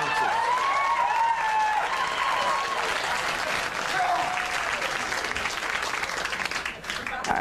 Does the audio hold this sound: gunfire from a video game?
no